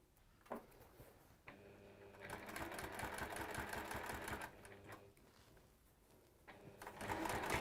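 Sewing machine stitching in the ditch along a quilt binding, running in steady rapid bursts with pauses between, close and fairly loud, with faint talk in the gaps.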